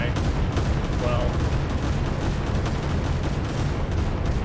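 Gunfire and explosions from War Thunder ground-forces battle, a dense, continuous rumble of shots and booms at steady loudness throughout, with a voice talking over it.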